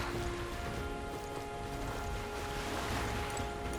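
Steady rain from the video game Metaphor: ReFantazio forms a dense, even hiss of falling drops, moderately loud and unbroken, with no talk.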